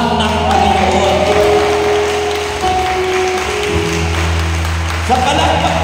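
An audience applauds during a church service, a dense, steady wash of clapping over a low tonal background, fairly loud and sustained throughout.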